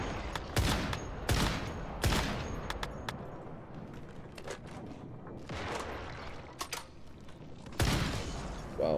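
Gunfire in the survival shooter Once Human, with bursts of shots and heavy blasts hitting at irregular intervals over a constant rumble of game ambience. Several of the reports land loud and close.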